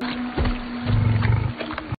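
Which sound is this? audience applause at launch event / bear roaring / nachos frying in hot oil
bear roaring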